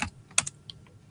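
Names are typed on a computer keyboard in a short burst of a few close, crisp key clicks, one sharper strike standing out, no voices.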